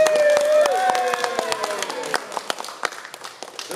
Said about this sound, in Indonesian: kita beri tepuk tangan yang meriah untuk Rama Bayu.